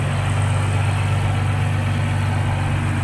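A hand-built 800bhp Nissan GT-R engine fitted with HKS components idles in a steady, close, loud low rumble, with no other sounds.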